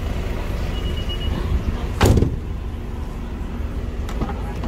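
The rear door of a used Suzuki Vitara at a used-car lot gives one sharp, loud clunk midway through, over a steady murmur of background noise.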